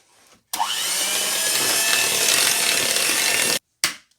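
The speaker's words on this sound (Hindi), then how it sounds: "और अब इन दोनों को मैं ब्लेंड करती हूँ।" A hand mixer whirs steadily while creaming equal weights of margarine and sugar for a coconut and almond sponge cake, running loud and close for about three seconds before it cuts off, followed by a brief restart.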